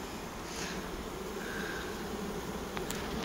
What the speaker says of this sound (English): They're fanning, they're calm, so that's what we like, calm bees.